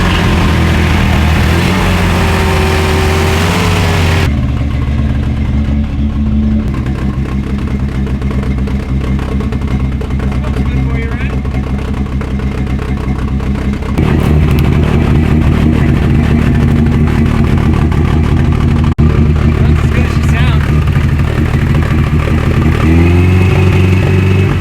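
Car engine idling unevenly and revving after being jump-started and choked, a steady loud mechanical drone with surges in pitch and clatter throughout.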